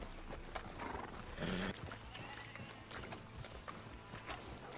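Horses in Red Dead Redemption 2 clip-clopping along with a whinny in the middle, hooves close and fairly soft, heard without talk.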